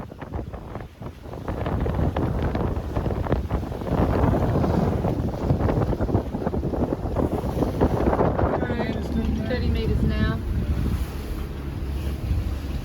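Constant wind roars across the microphone on a sailboat in a narrow channel between villages, with water and waves rushing beneath, loud and steady throughout, and a faint engine-like hum emerging near the end.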